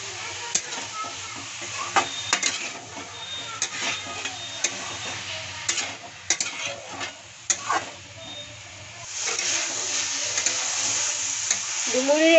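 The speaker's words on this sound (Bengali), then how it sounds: "ভালোভাবে কষিয়ে নেব মশলা" Spices, potato and boiled figs being sautéed in a pan, with a steady sizzle and frequent spatula scrapes and clicks throughout, building to a louder, denser frying hiss in the last few seconds, with no voices.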